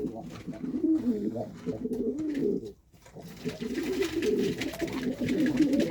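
Pigeons coo in a nest where a parent pair tends an injured young bird, soft low rounded calls repeating in bursts, close by, with a short pause midway.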